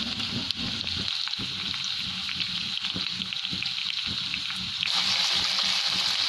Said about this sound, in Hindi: लहसुन मेरा लाइट गोल्डन हो चुका है। अब मैं इसमें ये अपने आलू डाल दूँगी,